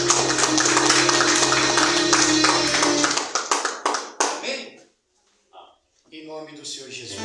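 Church congregation claps for Jesus, a loud burst of many hands over music that breaks into a few scattered separate claps and then stops, followed by a brief pause before a voice resumes.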